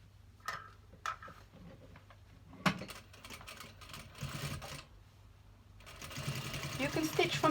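Sewing machine stitching a fabric mask, running in short bursts and then a longer continuous stretch of rapid mechanical whirring that grows louder toward the end, with soft talk in between.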